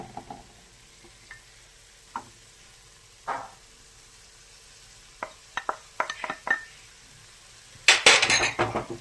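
A spoon mixes banana, jaggery and grated coconut in a pot, giving scattered scrapes and clinks that grow busier, ending in a dense burst of stirring, close and alone.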